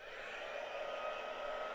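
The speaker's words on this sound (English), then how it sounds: "I'm going to dry that off with the heat gun" A heat gun blows hot air to dry wet watercolor paint on a pumpkin scarecrow painting, giving a steady, close, even whooshing roar that holds for the whole short stretch.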